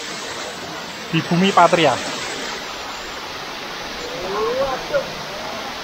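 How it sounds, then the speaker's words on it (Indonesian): Sirah Kencong waterfall near a tea plantation in Blitar, heard as a steady broadband rush of falling water that persists under brief talk from a man. "inilah air terjun Sirah Kencong. Air terjun yang luar biasa indah, luar biasa menawan"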